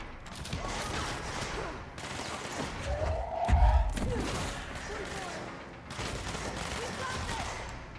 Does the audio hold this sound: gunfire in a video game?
yes